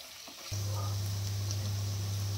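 Paneer fries in hot oil with a steady, soft sizzle that starts abruptly. A low constant hum runs underneath, and there is no talk.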